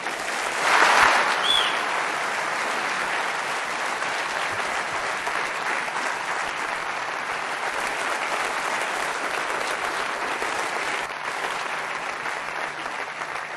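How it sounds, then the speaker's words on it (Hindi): Enthusiastic audience applause at a network-marketing seminar honoring MLM winners, a dense sustained clapping that swells early then holds steady and fairly loud throughout, with no voices over it. "जोरदार ताली इनके लिए हो जाए।"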